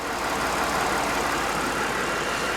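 A 2017 Lincoln Continental 3.0 AWD with 160,000 km idles in a quiet, smooth, steady hum, close and continuous, with no voices over it.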